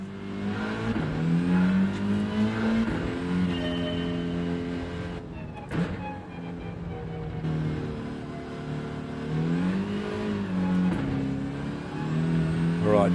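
A racing car engine in a video game drones and revs through laps, its pitch rising and falling with gear changes and a brief drop-off midway, loud and continuous.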